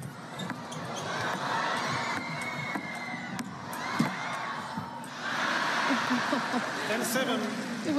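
Crowd roaring and cheering at a table tennis women's doubles final in the US Smash 2025, swelling after a rally at the net, with loud sustained cheers, whoops and shouts and a commentator talking over it.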